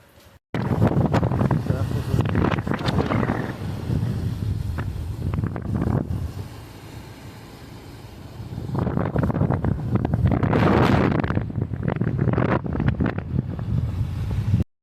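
Steady wind roar on a motorbike ride to the Rangpur fair fills the clip, broken by bursts of nearby talk.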